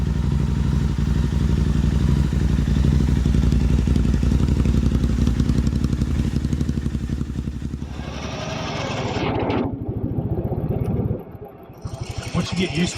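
Royal Enfield Himalayan 450 rally motorcycle on knobby tires, its engine thumping loud and steady before revs drop, briefly cut out, and pick back up, with a voice talking over the engine.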